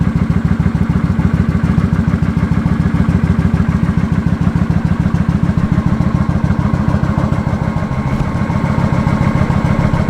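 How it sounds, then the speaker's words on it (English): A Kawasaki VN900 custom motorcycle with about 8,500 miles idles steadily up close, its engine giving a continuous low, even chugging rumble with light mechanical clatter throughout, and no talking. "let's have a bit of a close-up look at the bike whilst it's running"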